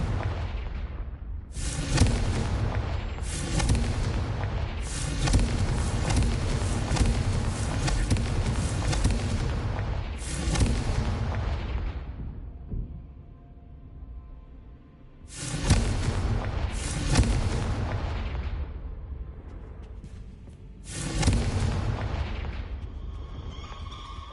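Confringo blasting spells in Hogwarts Legacy, a series of loud booming explosions with roaring debris that swell and fade over long stretches, broken by a brief quieter gap before two more blasts.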